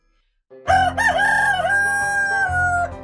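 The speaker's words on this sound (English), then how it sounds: "A rooster's booming crow echoed at sunrise." A rooster crows at sunrise on an American farm, one loud, close, drawn-out cock-a-doodle-doo that rises sharply from silence and holds strong to the end.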